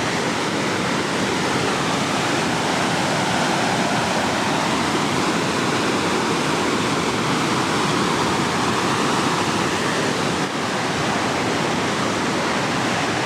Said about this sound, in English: A lot of the water is coming out of the cave there.